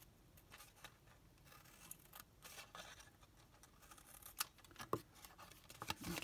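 Scissors cut card or paper for a stamped paper craft, with soft close snips and scraping rustles at a low, steady level.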